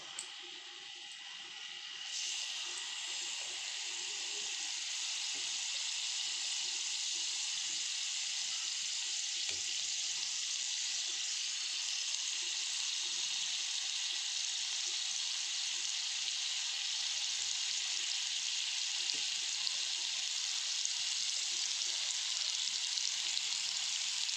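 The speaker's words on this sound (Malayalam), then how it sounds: "ചൂടായ പാനിലേക്ക് നമുക്ക് ഒരു മൂന്ന് കഷ്ണം വാളമീൻ ഫ്രൈ ചെയ്യാൻ വേണ്ടിയിട്ട്" Three pieces of vaala fish fry in a hot pan for a fish curry, giving a steady, even sizzle that stays at a constant level throughout and is heard alone, with no talking.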